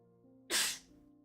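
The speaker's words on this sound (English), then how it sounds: "Sorry, I needed to sneeze." A single sharp human sneeze bursts out close to the microphone, a quick loud breathy blast that fades within a fraction of a second against a quiet background.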